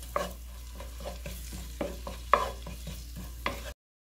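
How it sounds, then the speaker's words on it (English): Ginger and garlic are stirred and fried in a pan, with a soft sizzle under repeated scraping taps of a utensil, clear and close, that end abruptly. "stir this up. So we just want the ginger to mix with the garlic. Give it a little bit of brownness."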